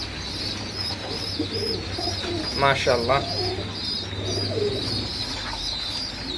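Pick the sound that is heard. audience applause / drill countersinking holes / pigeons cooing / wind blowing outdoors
pigeons cooing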